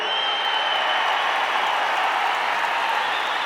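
A large crowd at a Tamil film event applauds steadily and loudly throughout, with dense, unbroken clapping and no pauses.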